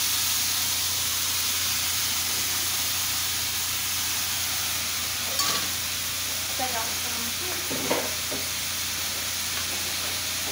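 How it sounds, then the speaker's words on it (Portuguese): Food sizzling while frying in an old pan in a home kitchen, a steady loud hiss throughout with a few small clinks and handling noises near the end. "Deixa eu dar uma pré-fritada."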